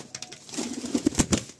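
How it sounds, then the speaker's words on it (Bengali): Madrasi pigeons coo nearby in a short burst of low, throaty, pulsing calls, several notes in quick succession. "মোটামুটি আমরা অনেকগুলো পায়রাই কম বেশি দেখছি।"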